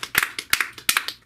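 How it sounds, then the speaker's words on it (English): Scattered clapping from a small comedy club audience, a handful of sharp, uneven claps spread over about a second, close and fairly loud, with no talking. "Just clap for fuck's sake then."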